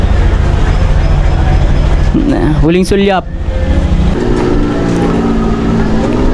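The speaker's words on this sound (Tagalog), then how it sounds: "Okay na yung ating motor at babiyahin na tayo." A motorcycle engine idles steadily after its CVT transmission was cleaned, a loud continuous low rumble throughout, with a person talking briefly over it near the middle.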